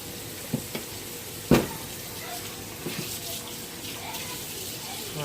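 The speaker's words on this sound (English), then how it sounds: "Want some quick little dish water just to wash up these little dishes." Tap water running into a kitchen sink for washing a few small dishes, a low steady hiss with a few sharp clinks and knocks on top, fairly quiet and close.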